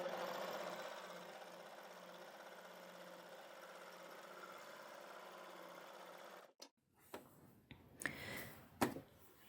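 Overlocker (serger) sewing machine stitching fabric with differential feed at 1:1, a fast steady mechanical whirr for about six seconds, then stopping, followed by a few handling clicks and knocks.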